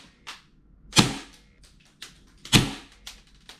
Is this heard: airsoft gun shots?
yes